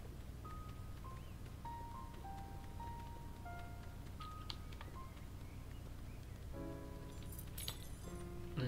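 In Untitled Goose Game, a ring of keys jangles with a bright metallic clink near the end, over steady plucked background music.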